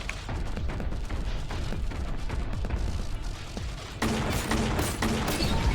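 Rapid, loud gunfire in Warhammer 40K: Boltgun aimed at a pillbox, dense continuous bursts with booming impacts that grow heavier partway through, no voices.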